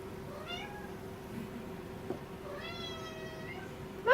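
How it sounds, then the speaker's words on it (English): A domestic cat meows twice in the background of a kitchen while ribs and a fig salad are prepared, each call a drawn-out, rising-and-falling cry with a steady low hum underneath and a brief louder sound at the very end. "we've got a kitty cat in the background who likes to meow at people"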